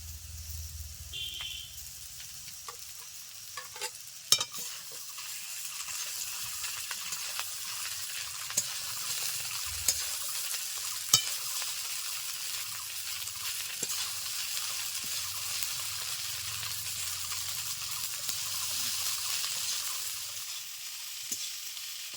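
Soaked flattened rice for egg poha sits in a pan over medium heat, giving a long, quiet frying hiss broken by occasional clinks and scrapes of stirring, with a low rumble underneath.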